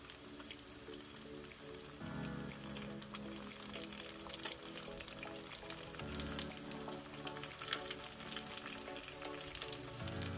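Dumplings frying in canola oil in a frying pan, a steady crackling sizzle with scattered pops and spatters and a few low clunks, close and fairly quiet.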